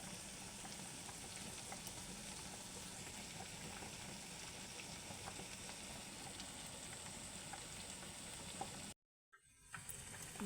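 Chapa shutki, dried fish paste, softly sizzles and bubbles in oil in a pan on a stove, a faint, steady frying hiss with a short gap near the end.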